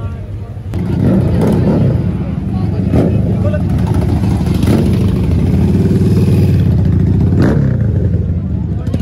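A loud Yamaha R1 motorcycle engine revving hard and holding a high, raspy roar, with a few sharper throttle blips over a busy crowd background at an auto show.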